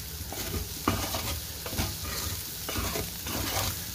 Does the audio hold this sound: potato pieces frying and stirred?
yes